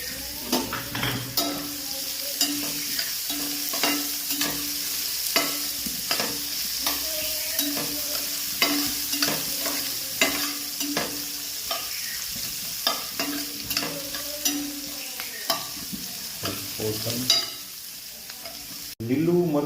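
Chopped onion frying in a hot oil tempering for Gujarati vaghareli khichdi, a steady close sizzle broken by repeated scrapes and clinks of a spoon stirring against the pot, with no talk.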